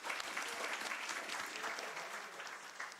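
An audience at a scientific conference session applauds steadily, dense continuous clapping from many hands filling the room at moderate distance, holding evenly before tapering slightly at the end.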